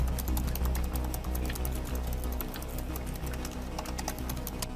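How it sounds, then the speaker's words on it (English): Keys clatter in a quick, steady run of taps on the backlit chiclet keyboard of a 13-inch MacBook Pro with Retina display, close and continuous over a low background hum. "You have a chiclet style backlit keyboard"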